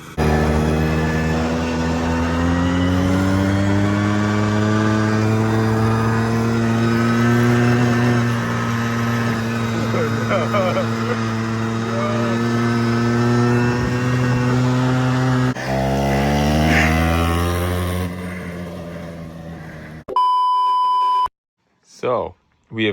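Car engines rev and drone as the vehicles pull away for a drive, loud and close with rising and falling pitch, ending with a few beeps and brief clatter; people talk over it.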